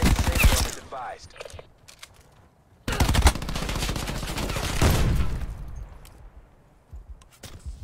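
Shotgun blasts and rapid automatic gunfire in Call of Duty Blackout, loud close bursts in two clusters separated by a brief lull, with footsteps and clattering mechanisms around them.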